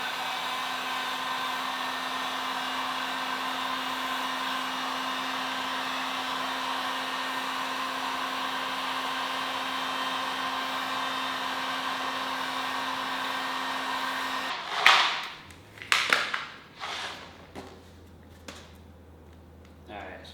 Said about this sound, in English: We just got our heat gun.